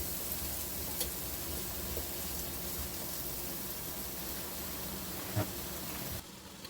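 Diced sweet potato, a full pound of it, sizzles steadily in a skillet, giving a constant broadband crackle with a couple of brief clinks and no talking.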